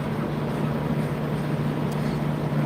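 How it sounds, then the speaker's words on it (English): Steady low truck noise drones throughout, a continuous rumble with a constant hum and no breaks, heard alone without talk. "I was hoping they were going to block out the truck noise."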